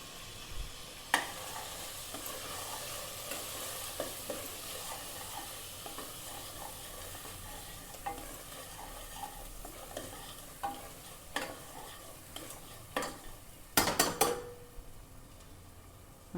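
Tomato and turmeric fry in a pan for mutton curry with bottle gourd, a steady close sizzle under repeated scraping stirs and occasional sharper clinks of the utensil against the pot.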